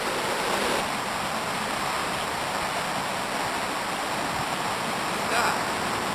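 Steady, loud rush of flowing water from a stream or waterfall, a constant broadband roar filling the whole clip with no voices over it.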